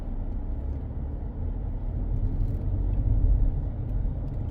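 Car driving slowly through a large school campus in the Parish of St. John, Barbados, a steady low engine and tyre rumble from inside the vehicle, swelling slightly midway, with no talking.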